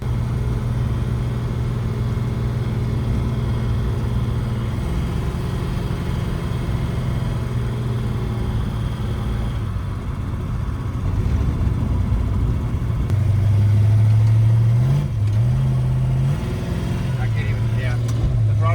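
A racecar from a mystery auction, fitted with a new engine, runs with a steady low drone, then rises sharply in pitch partway through as the throttle is pushed; talk may be heard over it.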